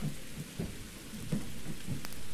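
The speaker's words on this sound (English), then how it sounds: "It looks rainy and dark." Steady rain hisses in the video game Irori, with low thunder rumbling underneath in soft, irregular rolls. The whole storm ambience stays even and moderately quiet throughout.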